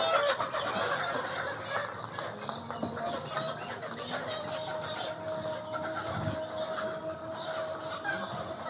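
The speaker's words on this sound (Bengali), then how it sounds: "এই অনেক মুরগি গাড়িতে চলে গেছে।" Layer hens in a poultry shed cluck and murmur in a low, continuous flock chatter, with scattered louder calls against the shed's background noise.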